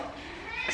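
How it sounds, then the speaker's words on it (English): A house cat yowls and meows in the background of an indoor room, a brief, faint cry that swells toward the end over steady low room noise. "Pardon my screaming cat in the background."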